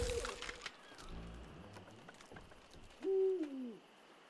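Owl in the video game Endling gives a single hoot late on, reasonably clear over soft rustling and dim ambient game noise, with no talking.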